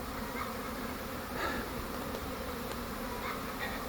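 A swarm of honeybees arriving at a swarm lure makes a dense, constant buzzing close by, with single bees droning past now and then, and no voices.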